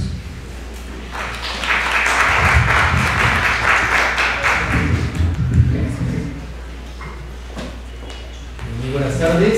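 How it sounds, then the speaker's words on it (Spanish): Applause from a conference audience after a speaker is introduced at a constitutional-law event, a broad wash of clapping that swells for several seconds and then fades, with voices talking over and after it. "para quien pido un fuerte voto de aplausos"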